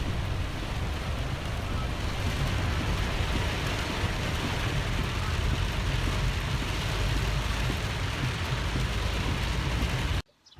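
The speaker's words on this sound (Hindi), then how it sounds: "और सडनली फिर इतनी ज़ोर से बारिश हो गई" Dense, steady rushing noise of heavy rain in the mountains, loud and continuous for about ten seconds before cutting off abruptly.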